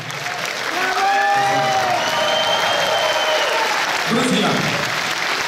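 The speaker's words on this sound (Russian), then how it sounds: "очень приятно ваши аплодисменты" Concert audience applause and cheering for a song performance, a loud sustained wall of clapping with whistles and shouts in the first seconds, then someone speaking over the continuing applause.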